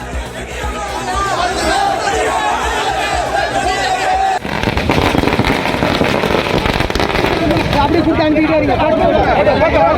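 Firecrackers bursting at a lawyers' celebration, rapid crackling pops amid a noisy crowd with chatter and shouting, loud and continuous throughout.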